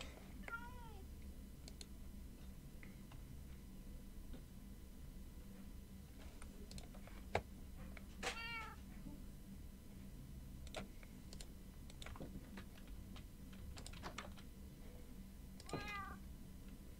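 Several cat meows from the Minecraft video game come at intervals, each a brief wavering cry over a constant low hum, with sporadic ticking keyboard clicks between them.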